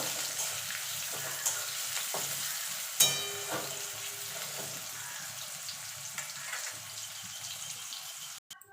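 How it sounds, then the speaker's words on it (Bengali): Chopped onion fries in a pan for a fish curry, giving a steady, close sizzle with occasional stirring scrapes and clinks. "এবার পেঁয়াজটাকে গোল্ডেন কালার করে ভেজে নেব"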